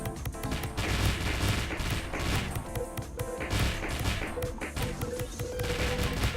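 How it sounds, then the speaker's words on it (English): Rapid overlapping explosions and crashing bursts from a chain reaction of colliding blocks in the shoot-'em-up Murasaki, dense and continuous with no gaps, loud and busy throughout. "by knocking these blocks together, you cause a chain reaction, and explosion will defeat enemies and cancel enemy bullets"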